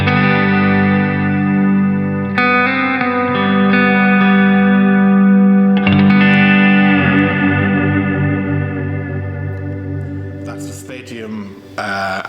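Feather reverb preset on a Specular Tempus pedal in an ambient pedalboard rig: sustained, shimmering guitar tones swell into a dense, lingering wash of reverb, with new chords blooming at a few points and no voices.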